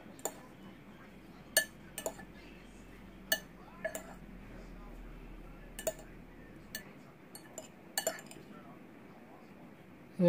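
Spoon stirring wasabi-flavored Japanese garlic fried rice in a bowl, giving sparse, light clinks and taps of utensil on dish over a quiet, soft background.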